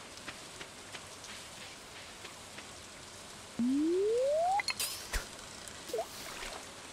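Steady game rain patters across the whole stretch in Stardew Valley, a soft even hiss with a rising chime tone and a few clinks near the end, no one talking over it.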